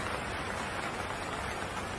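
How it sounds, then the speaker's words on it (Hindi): Steady, faint rain falls in an even hiss with no other sounds. "बारिश तो रुक ही नहीं रही है।"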